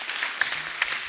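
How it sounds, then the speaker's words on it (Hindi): A studio audience claps briefly and fairly quietly, a short patter of hand claps with a couple of sharper slaps standing out. "जोरदार ताली"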